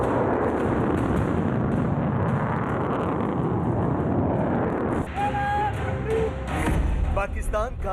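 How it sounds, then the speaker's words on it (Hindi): A Pakistani Shaheen-III missile test explosion makes a loud, continuous, rumbling roar. After about five seconds, a voice speaks over the fading blast. "पाकिस्तान का आत्मघाती मिसाइल टेस्ट।"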